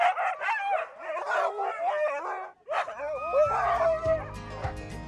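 Ten harnessed husky sled dogs yip, bark and howl impatiently in overlapping bursts, loud and close, with a brief pause before a rising chorus of howls over low rumbling.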